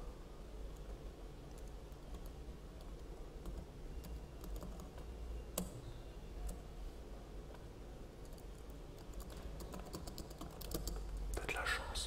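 Quiet, steady keyboard typing clatters at a low level against a hissy background, with a slightly louder burst of keystrokes near the end.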